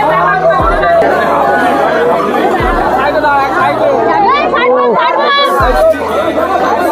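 Dense chatter from a large crowd at the Dakat Kali temple in Tarakeswar on a rainy day, many voices blending into a steady, loud hubbub with a few low thumps underneath.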